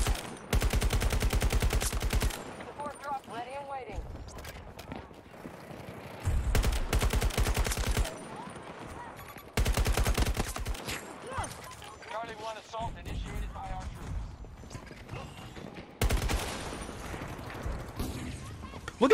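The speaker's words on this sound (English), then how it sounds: "How many times do I have to shoot somebody" Bursts of automatic rifle fire from an SFAR-M in the Battlefield 2042 video game, loud rapid volleys repeating in several strings with gaps between them, while someone talks over the action.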